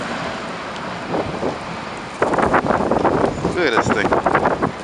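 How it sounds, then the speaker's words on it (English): Strong wind roars and buffets the microphone during a heavy February snowstorm in Montreal, with the gusts surging louder partway through as someone speaks briefly over it. "Man, that wind, woo!"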